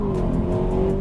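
Subaru BRZ / Toyota 86 sports car with a 200-horsepower engine, heard as a steady, loud engine drone with a sustained tonal hum, close and continuous over about a second, no voices.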